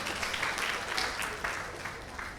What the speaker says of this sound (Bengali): দাদা, মাঝে মাঝে কিন্তু একটু হাততালি লাগবে